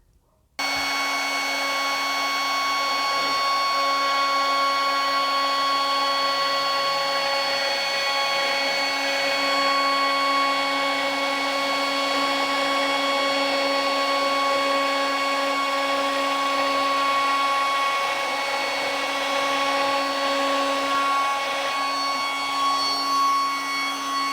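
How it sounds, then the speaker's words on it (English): A DeWalt DCW600 18V cordless brushless trimmer router cuts freehand with a V cutter, a loud, steady, high-pitched motor whine that holds constant for over twenty seconds with no talking. "Another way you can use the router is freehand, and for that I'm going to be using this V cutter"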